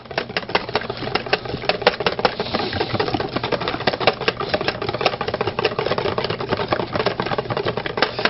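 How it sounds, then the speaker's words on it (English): Eggs and milk whisked together for an egg wash, with a rapid, steady clatter of the whisk against a bowl, close and fairly loud, without talk. "I'm going to whisk up my eggs and milk."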